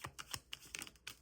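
Tarot cards being shuffled by hand, a quiet series of short crisp riffling snaps in uneven bursts, close but faint with no voices.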